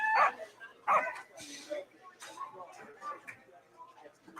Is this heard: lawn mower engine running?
no